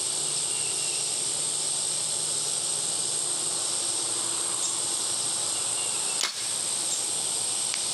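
A single arrow released from a Sanlida Dragon X7 bow gives a sharp, brief snap and whoosh partway through, set against constant outdoor insect buzzing and hiss.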